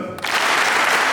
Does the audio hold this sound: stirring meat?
no